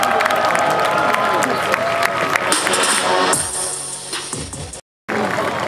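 An audience at a festival stage claps and cheers loudly in a dense, steady roar that thins out, then breaks off abruptly after a short gap.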